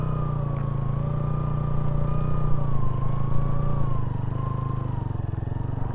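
A motorcycle engine holds a steady, loud mid-pitched drone while leaning into a turn, the pitch wavering slightly with throttle, close and continuous without speech.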